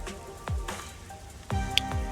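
Rain falls in the video game Master Detective Archives: Rain Code, with soft patter and a few sharp splashing drops at intervals, quiet and close, alone without voices.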